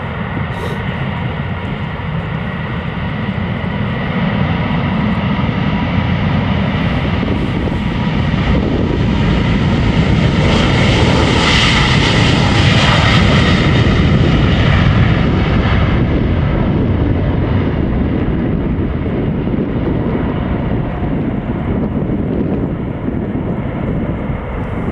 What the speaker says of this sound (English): KLM flight 791 to Sao Paulo, finally taking off.